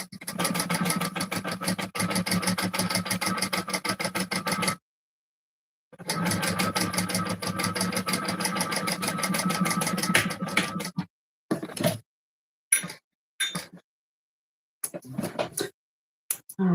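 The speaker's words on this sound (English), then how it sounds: "we're going to stitch down here 1/16 of an inch from that first stitch 1/4 inch stitch line" A sewing machine runs in long steady stitching bursts while sewing a wallet lining 1/16 inch from a 1/4 inch seam line, then stops and gives several short start-stop bursts.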